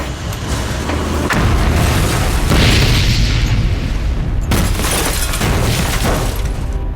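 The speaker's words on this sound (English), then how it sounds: "At 7:45, a huge explosion tore the building apart." A coal-fired boiler bursts in a building with a huge, sustained roaring boom that stays loud for several seconds, with cracking and debris-like bursts and rumble throughout.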